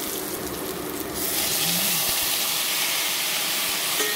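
Pork hisses and sizzles in a pan with browned garlic and onion, the hiss jumping louder as the meat hits the hot oil and then holding as a steady close frying sound.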